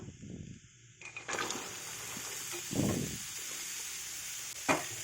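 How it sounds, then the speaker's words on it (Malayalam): Chopped papaya hits a hot pan seasoned with turmeric for a Kerala papaya thoran stir fry, setting off a steady close sizzle broken by a few louder scraping stirs and a sharp clatter, with no talking. "ഇനി പപ്പായ അരിഞ്ഞത് അതിലേക്ക് ചേർത്ത് കൊടുക്കുക."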